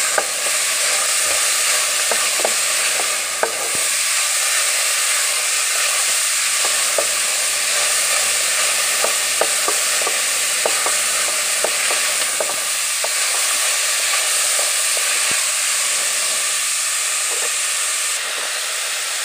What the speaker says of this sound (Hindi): ये में चमचा हिलाते जाना है तो नीचे ना लगे।